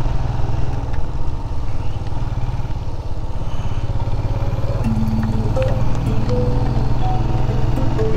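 A Royal Enfield Himalayan motorcycle rides in the rain on a mountain road in Sikkim, its engine a loud, steady, close rumble throughout, with faint clatter and brief tonal sounds partway through.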